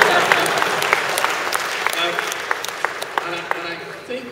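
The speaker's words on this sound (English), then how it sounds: "please applaud more." Scattered, uneven handclaps from a conference audience ring out in sharp individual bursts over someone talking, starting fuller and thinning to sporadic claps.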